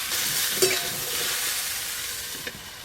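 Khichuri with vegetables is stirred in an uncovered pot on the stove, a spoon scraping and turning through the thick mixture under a continuous hiss of sizzling.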